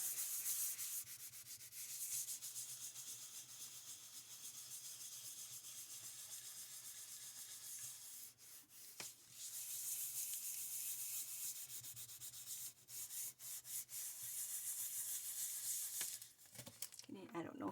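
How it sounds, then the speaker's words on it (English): A scrap of fleece is rubbed briskly over a leather-look notebook cover in a steady, soft scrubbing rhythm, close and quiet, with a few brief pauses and sharper strokes. "This is just a piece of scrap of fleece here, and I'm just going to give this a nice little"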